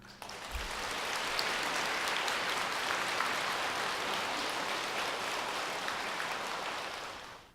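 An audience claps at the close of a Buddhist dharma talk at a Korean Seon temple's winter retreat ceremony: sustained, even applause from a sizable crowd that swells quickly, holds steady and fades out at the end.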